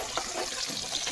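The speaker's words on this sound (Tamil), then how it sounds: "தண்ணி அப்படியே வடிச்சு விட்ருங்க." Water is drained off a pot while cooking, a brief rushing, splashing pour that stays steady and close throughout, with no voices.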